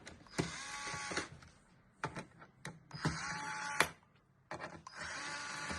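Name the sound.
electric screwdriver unscrewing screws on gaming PC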